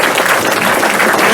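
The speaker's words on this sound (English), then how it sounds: "Give her a round of applause." Audience applause at a music festival greeting a surprise appearance by Dame Edna and Madge, a dense, steady wash of clapping that stays loud and even throughout.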